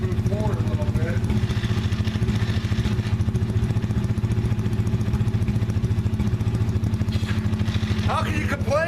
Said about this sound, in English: You kind of rev it up and kind of wants to move forward a little bit.